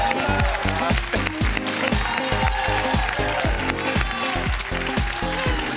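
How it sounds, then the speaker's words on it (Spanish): A studio audience at a television show applauds an actor and director with steady, loud, dense clapping that keeps going throughout. "Un fuerte aplauso"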